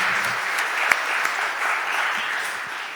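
Steady applause fills a Philadelphia city council chamber, moderately distant and even, with a few sharper individual claps standing out.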